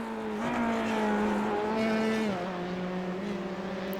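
An F3 open-wheel race car in the iRacing sim at Imola sustains a loud, steady engine whine, its pitch holding then dropping as it shifts and lifts, with faint tire noise underneath and no talking.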